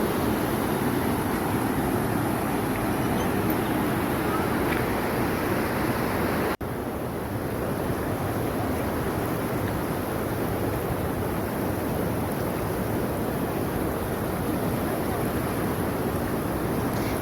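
Water rushing at Vaigai Dam in Theni, a steady broadband roar with a slight break partway through, continuous and fairly loud with no voices.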